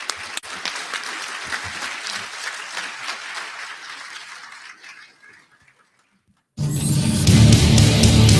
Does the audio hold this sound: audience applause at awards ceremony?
yes